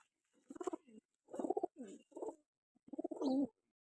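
Pigeons in a home loft coo close by in several soft, rounded bursts separated by short pauses, with no talking.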